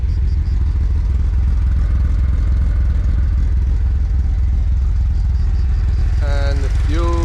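A camper van's engine runs loudly while the vehicle rolls along on a road trip in Croatia, a steady low rumble and clatter throughout, with a brief whining tone rising near the end.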